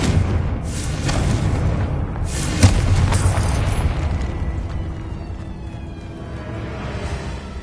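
A Confringo fire-blast spell from Hogwarts Legacy: a loud, deep booming explosion with a rumbling tail that slowly fades into a sustained low roar.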